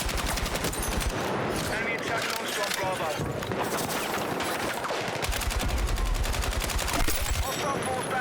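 Rapid M417 rifle fire in Battlefield 6, crisp repeated shots in quick bursts, close and prominent through most of the stretch, with a voice talking in between.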